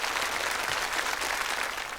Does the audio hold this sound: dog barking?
no